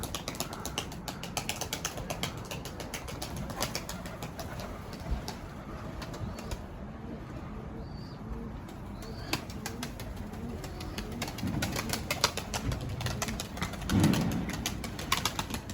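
Tumbler pigeons in a loft flying out and landing, giving repeated wing flutters and clattering with soft cooing and bird sounds over a steady background, and a louder burst of flapping near the end.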